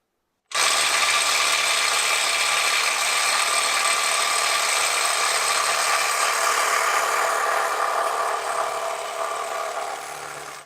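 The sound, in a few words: Milwaukee M12 FUEL subcompact impact wrench tightening to 100 foot-pounds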